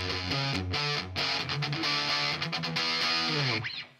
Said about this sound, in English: So let's push it a little further in the overdrive. I'm gonna come up to about the halfway mark now.